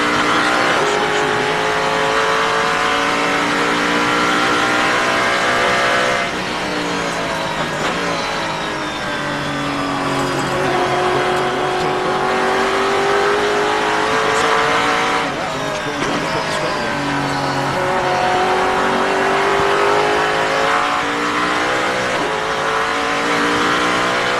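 A race car's engine screams at about 90 mph during a 2008 Rolex Sports Car Series endurance race, its pitch rising and dropping through downshifts to third gear, loud and continuous beneath commentators talking.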